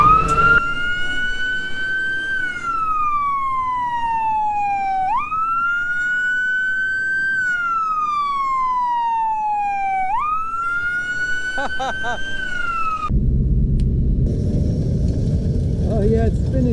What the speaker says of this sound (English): let's hit the sirens